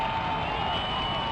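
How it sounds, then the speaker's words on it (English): A football crowd at HBU roars in a brief, steady burst of cheering from a stadium, distant and continuous with no distinct voices. "And now that has really got this HBU crowd fired up"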